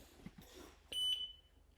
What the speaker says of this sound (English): Oh, got a beep.